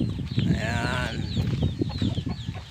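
Poultry clucking nearby with a turkey's rising, wavering call in the middle, over a busy background of flock chatter.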